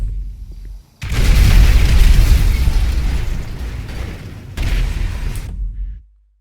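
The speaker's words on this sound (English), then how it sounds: "we have that final explosion of that gas tank" A gas tank explodes in the video game GTA 5, a sudden loud boom that cuts in after a second and rumbles on with a second burst before ending abruptly.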